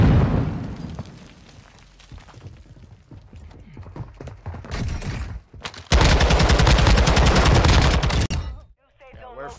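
Warzone 2 video game gunfire: rapid bursts of automatic weapon fire rising into a loud, dense sustained volley near the end, with rattling shots throughout and a brief pause before it.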